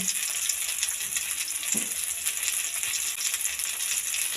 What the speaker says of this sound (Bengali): আর লঙ্কা একসঙ্গে কষিয়ে নেওয়া হচ্ছে